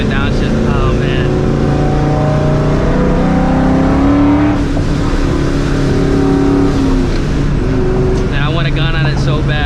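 A supercharged 2004 Ford Mustang GT is heard from inside the car as its engine loudly revs and pulls through the gears with supercharger whine, while someone talks over it.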